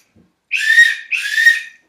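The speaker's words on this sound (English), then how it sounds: "3 short whistles." Two sharp whistle blasts from a sailboat race start sequence ring out close and loud in quick succession, each lasting about half a second.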